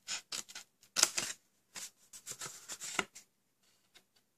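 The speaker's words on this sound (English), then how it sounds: "So just take your scissors." Scissors cut through card up close, giving a series of crisp snipping and rustling bursts with short pauses between them, fairly quiet and with no talk.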